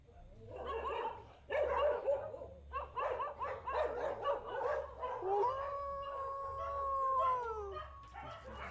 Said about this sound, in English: I hear the dogs, but are they even there, or is that added in?